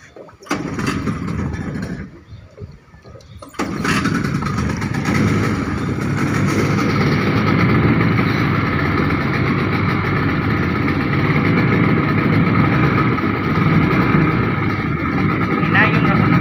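A ship's rescue boat engine cranks briefly, catches after a pause and settles into a loud, steady, rumbling idle close by, with people talking over the running engine.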